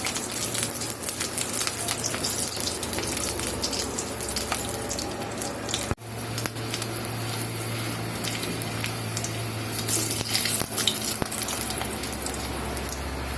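Garlic fries in a little oil, a continuous close sizzle with crackles that runs throughout with a brief dip midway; no talking.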